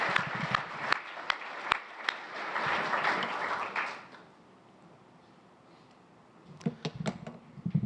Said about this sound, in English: Let's give a big round of applause for Sean and the others.